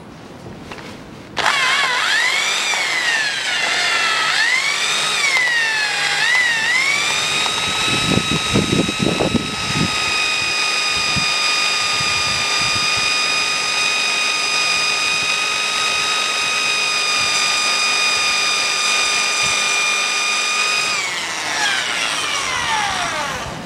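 An electric drill with a 4 mm bit whines steadily at close range, its pitch rising and dipping as it bites into metal, then runs evenly before spinning down.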